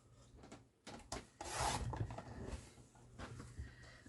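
A craft trimmer cuts small pieces to size for a floating spine mini book, giving quiet scraping and rubbing strokes in short irregular bursts, close and soft.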